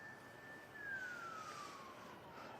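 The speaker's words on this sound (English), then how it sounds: "More sirens." A single faint police siren tone sliding slowly downward in pitch, distant, over steady background noise, during a large police response near Lloyd Center in Portland.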